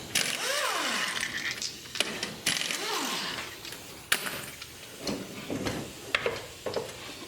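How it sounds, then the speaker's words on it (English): Wheel removal on a Polaris RZR S 900 using an 18mm socket, with irregular metallic clicks, ratcheting and clanks, moderately close and intermittent across the clip. "we're using 18mm socket to pop the wheels off"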